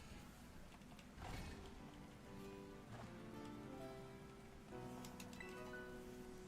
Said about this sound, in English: The rain, though.